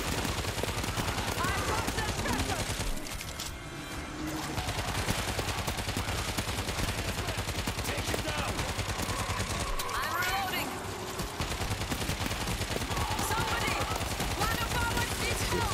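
Automatic turret gunfire from the World War Z: Aftermath video game rattles in dense, continuous bursts, with two short lulls along the way.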